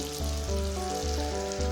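Capsicum, soy sauce and tomato sauce sizzling in a pan while chilli chicken is stir-fried, a loud, steady frying hiss that swells slightly with each stir.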